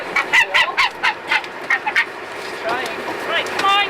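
A gannet being released into the air gives a run of loud, close honking calls in quick bursts, followed by a softer, more continuous stretch of calling.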